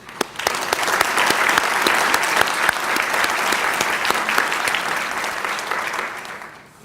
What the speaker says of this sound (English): Please give all of our sponsors a big round of applause